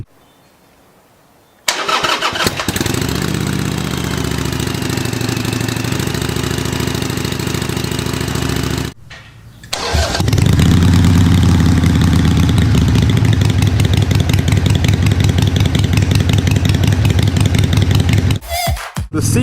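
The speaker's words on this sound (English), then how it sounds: "a sound clip of the stock exhaust next to the aftermarket exhaust" A Harley-Davidson Iron 883 motorcycle engine starts and idles on its stock exhaust with a deep, loud, steady rumble, cuts out briefly, then restarts on an aftermarket exhaust with a heavier, throatier idle.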